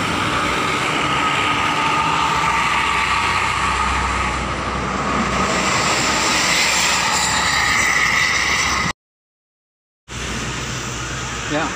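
An Agramas intercity bus with Rina Ozora livery roars past at speed in a long, loud, broadband rush that swells and fades, with a brief cut near the end.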